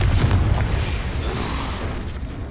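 A booming blast from the Confringo spell in the video game Hogwarts Legacy, a heavy low rumble that erupts loud at once and rolls on steadily for a couple of seconds with no voice over it.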